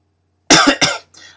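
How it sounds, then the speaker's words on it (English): A person coughs twice in quick succession, close and loud, followed by a fainter rasping breath, with silence before. "I'm coughing now"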